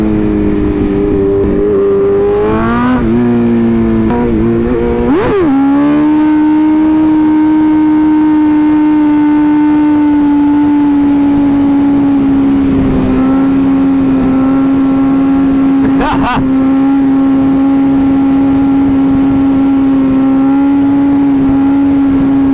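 A BMW S1000RR sport motorcycle engine revs hard and then holds a loud, steady high-pitched scream, with several sharp throttle blips along the way and no talking over it.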